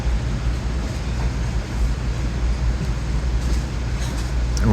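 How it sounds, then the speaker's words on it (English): A Metro-North Harlem line train rumbles past below on electrified third-rail track, a steady, loud low roar of wheels and rail noise that holds without a break. "That is a Harlem line train below us."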